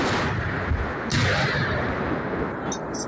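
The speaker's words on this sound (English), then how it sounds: "Continuous firing taking place." Continuous gunfire and bombing during the Russian invasion of Ukraine, heavy booming blasts and crackling bursts over a loud, rumbling wash, close and harsh.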